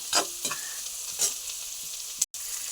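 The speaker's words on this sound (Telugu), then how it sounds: "ఉల్లిపాయలు కలర్ వచ్చేదాకా వేపాలండి" Onions sizzle and fry steadily in a pan for homemade Maggi, with a few scraping stirs cutting through the constant hiss; close and fairly loud, no voices.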